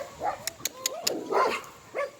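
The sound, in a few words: dog barking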